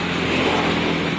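A truck engine revs close by as the vehicle pulls in, a steady loud mechanical roar throughout the short moment with no voices over it.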